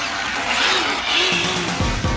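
An Arrma Felony RC car, a heavy metal-framed model with its throttle limited to 50 percent, races past at high speed with a whining motor rising and falling and faint tire noise.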